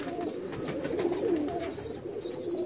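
Pigeons cooing in a rooftop loft, a low rolling coo rising and falling against faint background noise, fairly quiet and close, with no talk.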